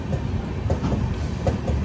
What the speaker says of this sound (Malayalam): കോർബയിൽ നിന്ന് റായ്പൂരിലേക്ക് വരുന്നൊരു ട്രെയിൻ